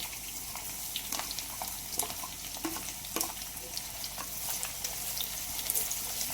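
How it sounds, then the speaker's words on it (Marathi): Finely chopped onions, two of them, sizzle steadily in a pan for paneer bhurji, a continuous close hiss broken by a few soft spoon scrapes and clicks, with no talking. "आता यामध्ये आपण बारीक चिरलेले 2 कांदे आहेत ते घालून घेऊया."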